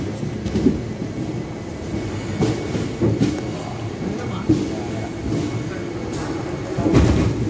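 Sabari Express rolling into platform 3 at a big junction station, a steady low rumble with rhythmic clanks and thumps of wheels over rail joints, close by and continuous under a faint voice.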